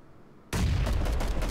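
A grenade goes off in PUBG, a sudden loud broadband blast after half a second of quiet, followed by a sustained roaring rumble and debris noise to the end.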